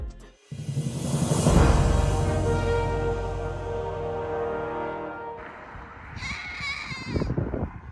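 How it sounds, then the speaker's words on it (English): Goats bleat loudly and close by, one long drawn-out cry followed by higher, wavering bleats. "These guys all make pretty standard goat noises"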